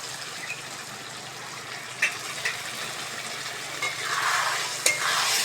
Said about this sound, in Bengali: এইবার আমি হলুদ আর লঙ্কাটা দিয়ে মশলাটা ভালো করে কষে নেব।